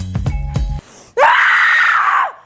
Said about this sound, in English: Screams that come from a place of anger call for a clenched mouth and tighter body position.